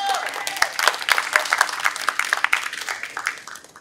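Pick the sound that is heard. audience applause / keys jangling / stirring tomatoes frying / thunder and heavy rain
audience applause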